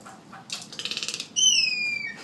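A toucan in a greenhouse aviary gives a burst of rapid, rhythmic wing flaps close by, followed by a loud, sustained, tonal squawking call.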